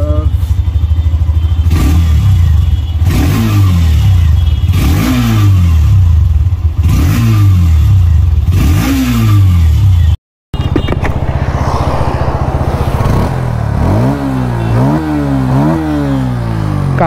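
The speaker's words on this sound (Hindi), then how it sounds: "दोनों बाइक का जो है आप एक बार एग्जॉस्ट नोट सुन लीजिए।" Close, loud motorcycle exhaust notes from a Hero Xtreme 125R and a Bajaj Pulsar N150 with an underbelly exhaust. The engines rise and fall through a series of sharp throttle revs from idle, one bike after the other, split by a brief cut.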